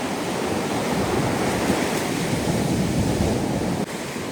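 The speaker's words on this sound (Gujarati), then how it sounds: "ભાઈ આ મોજા તો જો" Sea waves break on the beach at Chorwad, Gujarat, a loud, continuous wash of surf with some wind rumble and no voices.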